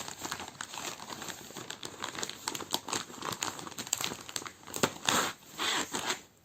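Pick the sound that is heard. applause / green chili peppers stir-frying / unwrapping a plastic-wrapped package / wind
unwrapping a plastic-wrapped package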